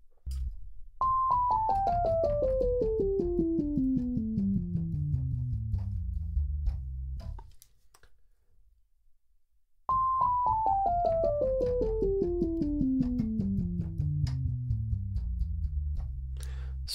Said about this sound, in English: the sound sounds kind of bright in the higher registers, letting more of the full sound through